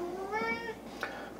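Two cats meow insistently for Meow Mix Market Select cat food, a long rising-and-falling cry followed by a shorter, fainter one, close by in a quiet room.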